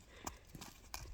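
A barrel horse mare turning on her front end, her hooves giving a few soft, scattered thuds and scuffs on the ground at close range, with no talk.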